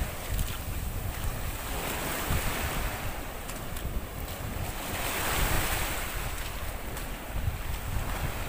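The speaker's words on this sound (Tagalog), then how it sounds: "iikot namin kayo dito sa kanilang playa na sobrang linaw ng tubig dagat kahit medyo maalon" Sea waves wash steadily onto a white sand beach with very clear water and a somewhat rough surf, a continuous broad roar with gentle swells in intensity, mixed with wind buffeting the microphone and no talking.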